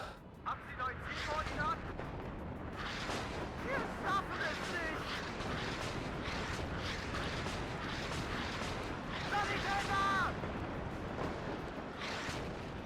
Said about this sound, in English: So 1 salvo of RM-70, 3 damage to these poor guys, didn't even rotate them